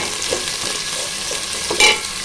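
Chopped onions, green chillies and curry leaves frying in a pan make a steady close sizzle, broken by a few soft stirring scrapes and one sharper clink near the end.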